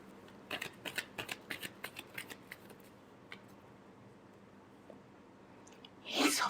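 Tarot cards being shuffled by hand give a quick run of about a dozen crisp riffling snaps, fairly close and evenly paced, followed by a few soft scattered taps and a brief rustle at the end.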